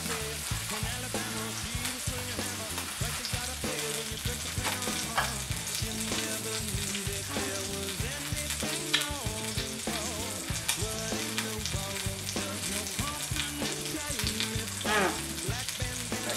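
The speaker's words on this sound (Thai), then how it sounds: "นี่เบาไฟไว้ก่อนเราจะให้เบคอนมันคายน้ำมันออกมาครับ" Bacon fries over low heat in a pan, rendering its fat, a continuous steady sizzle running throughout beneath prominent background music.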